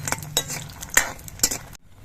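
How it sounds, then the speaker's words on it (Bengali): Lentil dumplings (dal bori) frying in hot oil are stirred in a pan, with a steady sizzle broken by four or five sharp metal spoon clinks scraping against the pan, close and clear. "ডালের বড়িগুলো ভাজার সময় অনবরত নাড়তে হবে"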